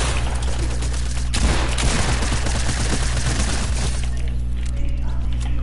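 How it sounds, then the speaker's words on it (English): Submachine gun fire rattles in rapid continuous bursts during a video game match, loud and close, with a denser crackling stretch in the middle over a constant low hum. "I hit every SMG shot."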